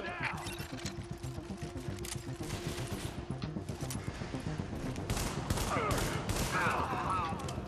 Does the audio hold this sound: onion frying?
no